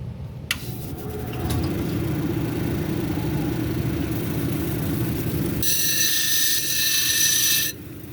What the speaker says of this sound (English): I'm going to grind this edge right here now, kind of work my way to the center